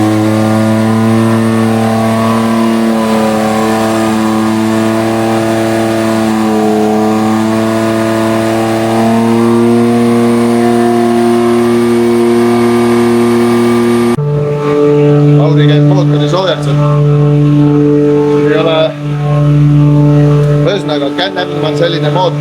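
A Can-Am Maverick X3 side-by-side engine revs hard on a dyno, holding a loud, steady high-rpm drone that shifts pitch in steps, then cuts to a rougher, pulsing rev pattern near the machine.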